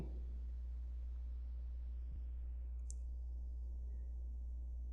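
A computer mouse gives a single faint, sharp click, with another tiny tick soon after, both over a steady low electrical hum in a quiet room.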